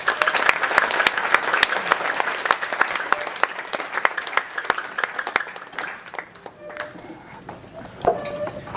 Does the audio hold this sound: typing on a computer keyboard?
no